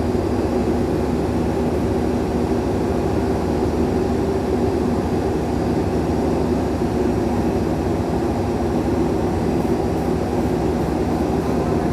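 The Argo Muria passenger train rumbles steadily on the rails after departing Cirebon Kejaksan station, a loud continuous drone with rhythmic rattling, heard from inside or close by.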